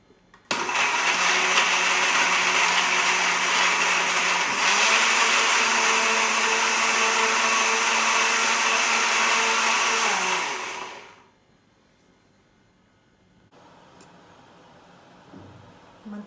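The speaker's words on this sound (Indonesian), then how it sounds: "sekarang saya akan blender bahannya." A blender whirs loudly and steadily for about ten seconds, grinding turmeric, kencur and ginger with water, then winds down and stops, leaving quiet room tone with faint handling at the end.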